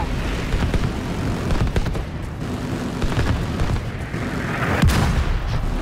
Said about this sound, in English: Watch out for mortars and then fucking mortars! Mortars on the roof